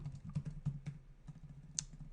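Fingers type on a sticking computer keyboard, a run of soft, irregular key clicks close by, with one sharper click near the end.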